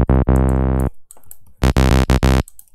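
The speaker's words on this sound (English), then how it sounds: "Let's choose analog oscillator, put it 2 octaves down, and choose a sine wave" Deep, clean sine-wave synthesizer bass tones from an analog oscillator two octaves down, played in short bursts in the Odin2 synth, a smooth pure hum with brief silences between notes, loud and close.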